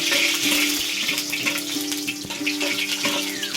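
Garlic sizzles loudly in a hot pan while being stirred, a dense steady frying hiss with light clicks of the utensil against the pan, with no voices over it.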